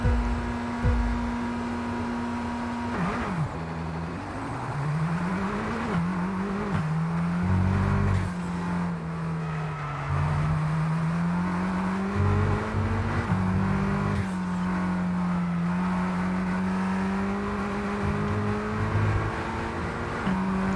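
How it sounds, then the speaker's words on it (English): A supercar engine in the racing video game F1 22, driving the Belgium circuit: a steady, fairly loud engine drone whose pitch rises and falls with gear changes and acceleration, heard alone without talk. "Such a good handling car, absolute pleasure to drive."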